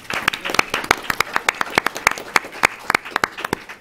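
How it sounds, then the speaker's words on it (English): A panel audience at a policy forum on the U.S.-Korea alliance claps in a sparse, uneven patter of individual sharp hand claps, close and distinct rather than blended into a roar. "Let us give a big applause to her."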